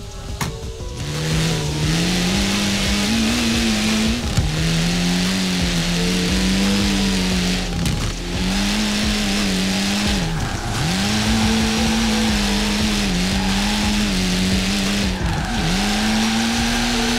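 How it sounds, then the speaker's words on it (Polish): A car drifts in Forza Horizon 4 during a street drift meet, its engine droning loudly and steadily with pitch dips as the throttle shifts, tires squealing and skidding throughout with no pauses. "jaki fajny drift zrobiłem dzięki niemu"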